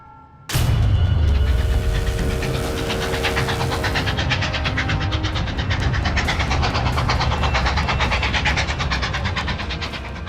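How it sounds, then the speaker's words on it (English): A packed Civil War-era troop train speeds along the rails, starting abruptly with a loud burst and settling into steady rumbling and rapid, rhythmic clickety-clack of wheels over track, loud and close with no voices. "A packed train speeds on its way south, ready to replenish the Union Army with fresh troops and supplies."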